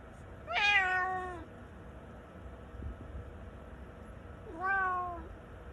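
A cat meows twice, a longer drawn-out meow followed several seconds later by a shorter one, close by in an otherwise quiet room.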